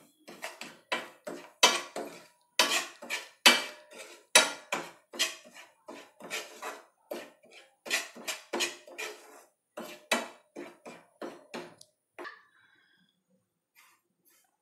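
Bombay rava semolina is dry-roasted in a pan, with a spoon scraping and clinking against the metal in a quick, even rhythm of close strokes for about twelve seconds before the stirring stops.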